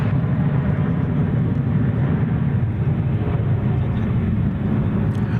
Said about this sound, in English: American 2568 is on the way on that Airbus A321